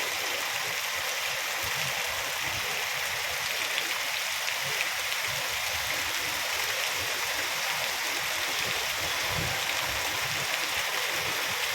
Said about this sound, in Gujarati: રસ્તા ઉપર નદી ન આવી ગઈ હોય એવું લાગે છે